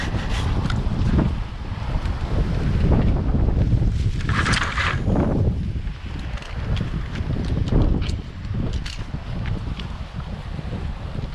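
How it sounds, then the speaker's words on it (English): Steady breezy wind blowing outdoors, a loud continuous rumble buffeting close to the microphone with gusty swells and dips throughout. "Gonna get a bit breezy, I think."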